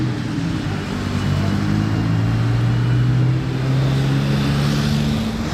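A Lamborghini supercar engine roars steadily in Monaco, a loud, sustained low rumble with a strong droning tone and no speech over it.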